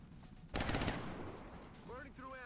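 A burst of rapid automatic gunfire from a soldier's weapon in XCOM Long War, sharp and loud for about half a second and then fading, with a voice speaking faintly afterward.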